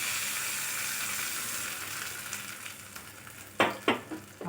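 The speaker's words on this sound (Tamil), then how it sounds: "இப்போது நம்ம இந்த வெங்காயம் வெந்துட்டு இருக்குது" Onions sizzle steadily in a pan for a masala dosa filling, a continuous frying hiss, with a few sharp utensil clinks toward the end.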